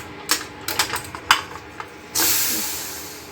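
A pressure cooker of dum chicken biryani is unlatched with a few sharp mechanical clicks, then a loud, steady rush of escaping steam hisses close by for over a second.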